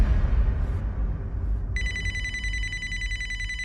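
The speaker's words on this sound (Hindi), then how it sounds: "किसका फोन था?" A telephone begins ringing partway through with a sustained electronic bell tone, heard clearly over a low rumbling background, after an earlier stretch of muffled noise.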